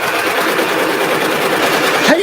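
A multi-head embroidery machine runs at a steady, dense mechanical hum with rapid needle chatter, loud and continuous throughout.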